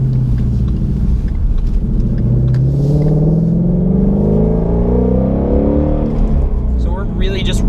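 A Shelby GT350 accelerates while driving on a cold day in Buffalo, New York, its engine rising in pitch as revs climb, loud and close from inside the car, with a voice talking over it.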